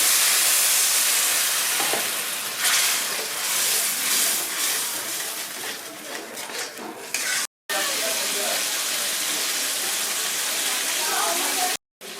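Water poured into hot fried masala for a prawn malaikari, a loud hissing sizzle that surges and then settles into a steady bubbling hiss, broken by two short dropouts.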